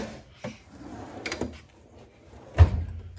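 A toolbox drawer in a small engine repair shop sliding open, a few soft rolling scrapes and knocks ending in a louder thud as it stops, close by with no talk.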